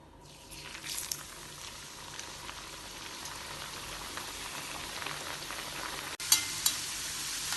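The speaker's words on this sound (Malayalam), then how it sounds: "ഇനി ഈ ഷേപ്പ് ചെയ്ത് വെച്ചതെടുത്ത് ചൂടായ എണ്ണയിലേക്ക് ഇടാം." Shaped mawa gujiya pastries drop into hot oil and fry with a steady, close sizzling hiss and bubbling, with a couple of sharper spatters near the end; no voices.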